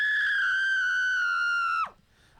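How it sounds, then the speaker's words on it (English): A scream from a sound effects library rings out as a single sustained, high, piercing cry held for nearly two seconds before dropping off abruptly into quiet. "So for example, the scream."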